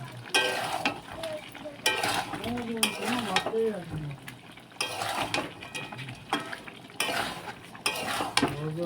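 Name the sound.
meat being sautéed with garam masala in a pan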